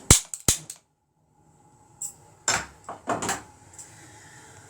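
A gas stove burner is lit in a home kitchen under a pan of water: two sharp igniter clicks snap close by, followed after a pause by softer knocks and a brief whoosh of catching flame.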